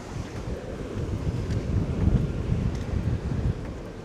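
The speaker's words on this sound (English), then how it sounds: "I know it's really windy" Strong wind at an island resort in Bintan, Indonesia buffets the microphone in a continuous, loud roar with gusty swells, no voices present.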